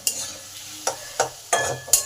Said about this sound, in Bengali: চিংড়ি মাছগুলো আছে এগুলো দিয়ে দিলাম। এগুলো পেঁয়াজের সাথে ভালোভাবে ভাজা হয়ে যাবে।